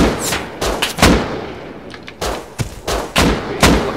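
Gunfire in the survival game Rust: loud, close single shots, about eight of them in uneven bursts separated by short pauses, with no talking.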